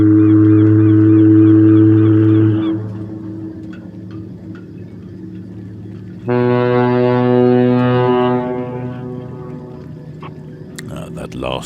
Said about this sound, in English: That last hoot you heard was from the Wittonia, the bunkering vessel, responding to Sheildhall's hoots